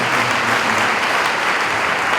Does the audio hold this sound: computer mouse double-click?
no